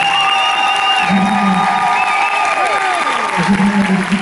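A concert crowd applauds after a performance of Tri Martolod in Lille, with a thick, steady roar of clapping and cheering that stays loud throughout and carries whistles and scattered voices.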